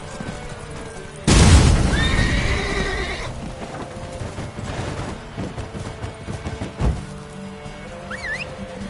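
Horse Roach in The Witcher 3 lets out a loud, close whinny after a heavy thump, then hooves clop and game sounds rumble on, with a brief thud near the end.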